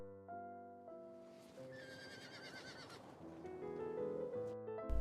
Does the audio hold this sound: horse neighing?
yes